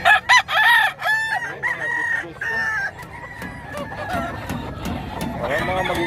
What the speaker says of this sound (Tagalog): Malaking manok oh.